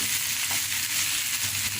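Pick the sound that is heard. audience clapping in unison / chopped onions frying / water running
chopped onions frying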